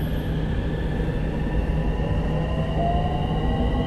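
Inside a Bangkok Purple Line metro train crossing the Chao Phraya river, a continuous loud rumble and roar of wheels on rails with a steady hum and no talking.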